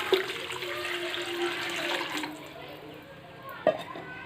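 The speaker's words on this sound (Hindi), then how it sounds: "यहाँ पे हम स्टीम वाला पानी डालते हैं," Water pours steadily into a pot of rice for Saudi chicken mandi, a close splashing rush that tapers off partway through, with a clink near the end.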